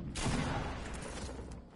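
Sniper rifle gunfire in a video game: a single loud shot bursts in near the start, then a dense booming wash and rumble carry on to the end, with no speech over it.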